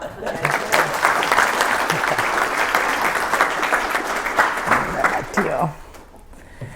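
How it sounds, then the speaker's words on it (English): A room full of people gives a sustained round of applause for Karen, a longtime worker at Bloedow Bakery, with dense steady clapping that carries for several seconds before tapering off. "Another round of applause for Karen."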